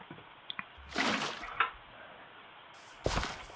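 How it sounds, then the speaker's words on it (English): A Minecraft water bucket is emptied onto a block, giving a short, splashy gush, and a second similar watery burst follows a couple of seconds later, with faint clicks in between. "Actually, let's put the water bucket in there."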